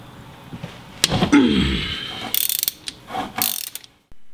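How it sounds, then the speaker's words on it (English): A 17mm Allen wrench breaking free a stubborn drain bolt on the bottom of a manual transmission gives a sharp crack, then scraping and a run of quick ratcheting clicks from the tool, close and fairly loud with no talk. "remove that 1 bolt on the bottom with a 17mm Allen to take off the bolt"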